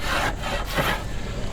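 A hand tool shaves hard wood on a bow being shaped by hand, giving steady close rasping strokes with a couple of harder scraping pulls where tough bits of wood catch and chip.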